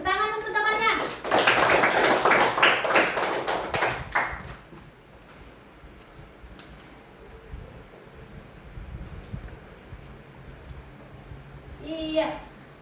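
A group of schoolchildren in a classroom clap their hands in applause for a classmate, a loud burst of rapid claps lasting a few seconds with children's voices, then fading into quiet room noise and someone speaking.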